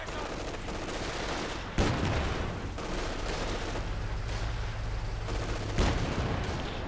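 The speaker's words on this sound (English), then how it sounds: "Field gun firing as well" A field gun firing in the Company of Heroes 2 real-time strategy game, two heavy booming shots spaced a few seconds apart over a dense bed of battle noise and gunfire.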